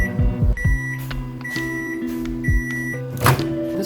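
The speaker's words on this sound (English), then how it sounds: "Putting things in the microwave that shouldn't be put in the microwave." A microwave oven humming steadily on minimum power while proofing a bowl of bread dough beside a mug of hot water, a continuous close electrical drone with faint tonal whines and small clicks throughout.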